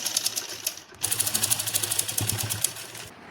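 A domestic sewing machine top-stitching a salwar belt runs in a quick, close rhythmic chatter, stopping briefly and then resuming for a steady burst before cutting off.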